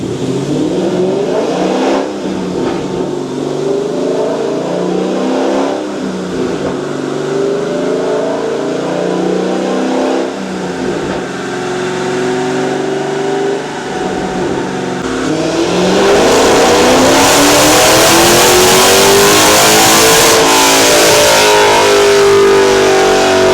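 A Dodge Challenger Scat Pack engine roars loud and steady on a dyno, its pitch climbing through a long wide-open pull that swells even harder in the final stretch.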